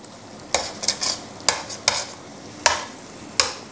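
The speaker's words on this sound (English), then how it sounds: "give it all a mix around" Lamb ragout being stirred in a pan, with repeated spoon scrapes at uneven intervals over a low, continuous sizzle, close and clear, with no voices.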